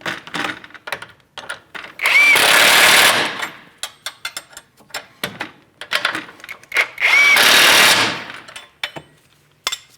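Power tool tightening control arm hardware on a Chevrolet Malibu, sounding in two loud bursts of about a second each, separated by lighter clicks and clanks of work on the car.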